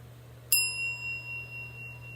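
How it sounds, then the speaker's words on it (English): A small classroom bell, the kind a teacher uses in class, gives a single bright ding that rings out and slowly decays over a quiet background. "this is what the bell sounds like"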